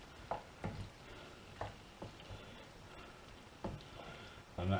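Drained pasta being tossed in a pan with smoky tomato sauce, giving several soft wet squelches and scrapes at irregular intervals over a quiet sizzle, close by with no talking.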